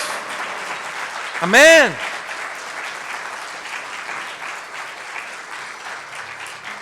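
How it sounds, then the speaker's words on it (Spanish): A church congregation claps in a short, loud burst of applause during a Spanish-language sermon, with a voice calling out over it before the clapping fades back into quiet room noise. "Dale una ofrenda de palmas al Rey de los siglos."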